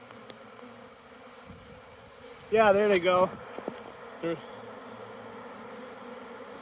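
Honeybees from a Michigan spring swarm marching into a hive box: a steady low droning hum of many insects, with a louder, close buzzing burst partway through and a brief voice speaking over it.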